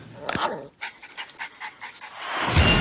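A dog makes short yips and whimpering barks in a rhythmic series, fairly close, with a voice briefly heard at the start and growing noise toward the end.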